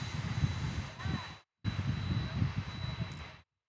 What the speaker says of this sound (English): That's a sharp-looking Phenom right there